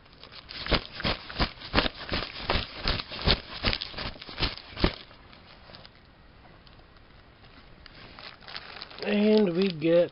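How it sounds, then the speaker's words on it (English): Rapid rustling and crinkling patter of a bag being shaken fill the first half, then quieter handling, and a voice comes in at the end. "Let's give our bag a quick shuffle here."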